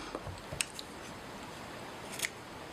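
Fly-tying scissors snip hair trimmed down around the sides and underneath a hook for an ant pattern, a few quiet, brief clicks spaced apart in a hushed room.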